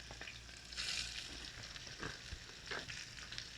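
Onion sizzles softly in a hot pan while making cabbage kootu, a quiet crackling hiss with occasional stirring scrapes close by.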